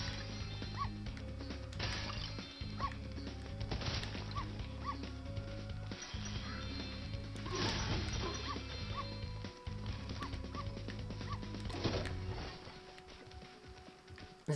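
A puppy in the Spyro the Dragon video game yips, barks and whimpers repeatedly over looping game music, the short dog sounds recurring every second or so throughout.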